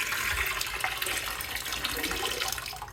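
Water poured from a pitcher into a low-tech nature aquarium tank, a steady continuous splashing and gurgling stream that runs close and fairly loud throughout.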